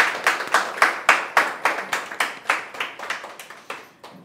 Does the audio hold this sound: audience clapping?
yes